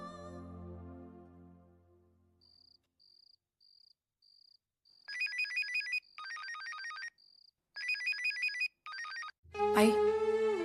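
A mobile phone rings during a call in a home setting: a faint repeating ringback beep, then loud bursts of a trilling ringtone in regular pulses, ending in a sudden clatter.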